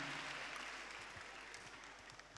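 An audience claps at an evening of songs, a steady wash of many hands that sounds faint and distant and tapers slightly at the end.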